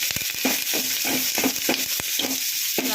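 Curry leaves sizzle in tempering oil while a spoon stirs in a quick regular rhythm, roughly four scrapes a second, over a constant close hiss with no voices.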